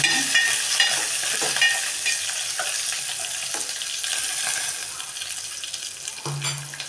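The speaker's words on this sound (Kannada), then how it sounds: "ಅದನ್ನ ಹಾಕ್ತಾಯಿದ್ದೀನಿ ಹಾಕಿಬಿಟ್ಟು ಸ್ವಲ್ಪ ಫ್ರೈ ಮಾಡ್ಕೊಳ್ಳೋಣ" Green chillies fry in oil in a pan for rasam. A bright, close sizzle is broken by stirring scrapes and fades slightly toward the end, with no speech.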